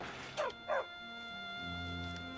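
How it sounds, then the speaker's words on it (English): Two quick dog barks from a video game, close together and fairly loud, followed by a steady humming game music bed with no voices. "Dog."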